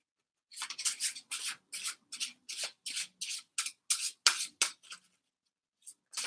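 Tarot cards being shuffled by hand, a run of about a dozen quick, crisp riffling bursts in steady rhythm, close and moderately loud, with no talking.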